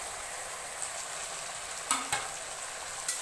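Ginger, garlic and cumin paste with chopped tomato fries in a pan for mutton curry. The sizzle is soft and steady, broken by a few sharp clicks of stirring.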